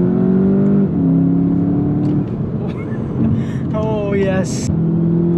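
A 2021 Volkswagen Jetta GLI accelerates hard from inside the cabin. A droning engine note climbs through the gears with a rising turbo whine, and a man exclaims briefly.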